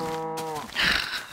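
A Minecraft cow gives a single loud moo, a short low bellow with a rougher breathy end, heard alone with no talk.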